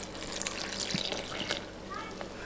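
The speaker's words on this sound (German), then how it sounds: "Und ganz am Ende kommt das Wasser." Water pours into a bowl of dough ingredients for Tatar chebureki, a faint trickling and splashing under a steady kitchen background with a few light knocks.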